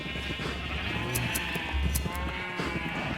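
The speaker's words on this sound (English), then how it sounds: "I'm not mentally prepared for these sheep again" Sheep in the game Minecraft bleat repeatedly in short, fairly loud calls over a steady low in-game background hum, with no talking.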